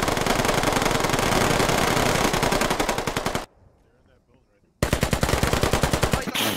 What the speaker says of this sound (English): Can someone shoot through the floor to distract for a second?